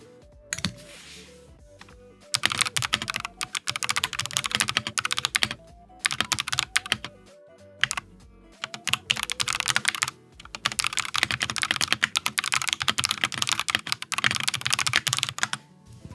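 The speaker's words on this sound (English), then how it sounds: "You want keyboard ASMR? Here, I'll put my mic up to my keyboard." Fast typing on a computer keyboard with the microphone held right up to the keys, loud close clattering in long bursts separated by brief pauses.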